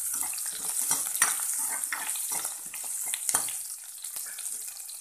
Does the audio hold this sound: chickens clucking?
no